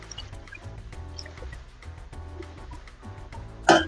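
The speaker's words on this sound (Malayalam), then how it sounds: "നമുക്ക് കുറച്ച് ചൂടുവെള്ളം കൂടെ ചേർത്ത് കൊടുക്കാം" Hot water trickles and drips into a pot of bone curry, soft splashy pouring sounds ending with a brief louder splash near the end.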